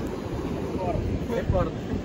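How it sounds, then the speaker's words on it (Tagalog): Surf rolls and washes in the background under gusty wind noise, with faint voices briefly audible. "Ang lakas ng alon."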